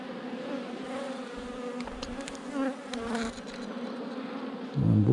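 Honeybees buzz steadily around an open hive frame holding nectar and pollen, a continuous close drone with brief swells and a louder surge near the end.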